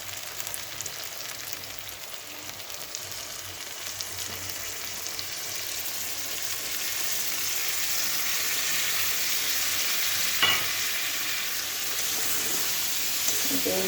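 Yogurt stirred into potol (pointed gourd) on a very low gas flame for dahi potol, giving a steady, soft sizzle throughout, a little louder in the second half, with a brief scrape of the spoon near the end.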